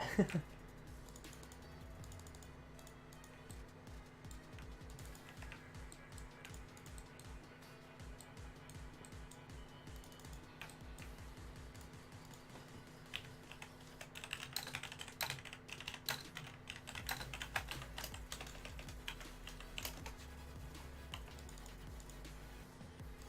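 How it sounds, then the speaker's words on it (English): Continuous typing on a mechanical computer keyboard, with rapid, uneven clicky keystrokes close to the microphone and a steady low hum underneath, growing busier and louder toward the end. "Sorry if the keyboard is too loud"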